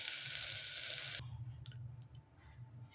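Turmeric sizzling as it is sautéed in a hot pan, a loud bright hiss for about a second that cuts off, leaving faint crackles and low stirring sounds, with no talk.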